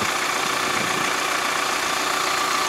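A Kubota MZ775 tractor engine running in a stony farm field, a steady, loud diesel drone with a rattly, knocking mechanical clatter and no voices.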